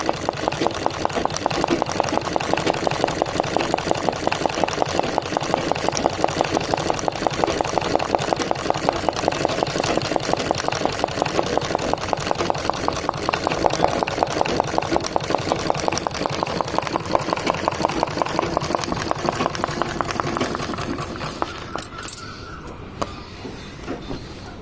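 A sewing machine runs steady running-stitch embroidery with green thread on a leaf design, its close, rapid, even mechanical chatter continuing for about twenty seconds before stopping with a few isolated clicks.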